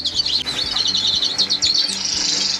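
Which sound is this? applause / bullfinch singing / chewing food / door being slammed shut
bullfinch singing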